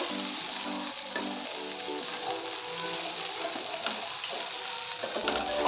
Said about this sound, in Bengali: এখন আমি দিয়ে দিচ্ছি ঘি, এটার সঙ্গে ভালোভাবে মিশিয়ে নেব।